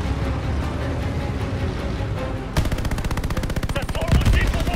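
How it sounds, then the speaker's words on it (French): Gunfire in Call of Duty Vanguard's Midway mission: a low rumbling din gives way partway through to a loud, sustained burst of rapid machine-gun fire that keeps hammering to the end. "Je subis trop de tirs. Je me fais canarder."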